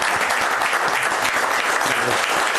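City council meeting attendees applaud public works officials, producing an even, continuous burst of many hands clapping, close and fairly loud for the whole stretch.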